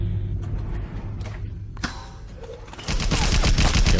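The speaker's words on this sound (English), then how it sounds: "Joe seems to have activated this turret" An automated turret in BioShock opens fire at the player with a rapid burst of loud gunshots that follows a few mechanical clicks and clanks.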